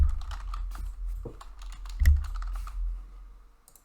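Fast key clicks on a computer keyboard as a username is typed, a dense run of close, crisp taps in short bursts, with no voices.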